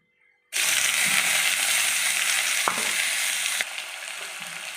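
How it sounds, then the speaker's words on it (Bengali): Potatoes fry in hot oil, a strong, steady close sizzle that starts suddenly and continues throughout, easing slightly near the end. "ওই তেলে আমি আলু ভেজে"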